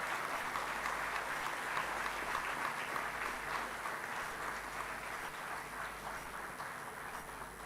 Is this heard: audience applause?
yes